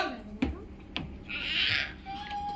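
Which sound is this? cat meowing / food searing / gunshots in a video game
cat meowing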